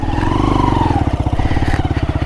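A TVS XL moped's small engine revs hard with a throbbing, pulsing drone while its rear wheel spins in mud, running loud and close without a break throughout.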